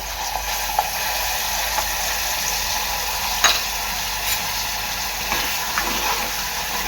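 Ground spice paste fries in hot oil for an Agri Koli-style sour fish curry, making a steady close hiss and sizzle with a few faint stirring scrapes.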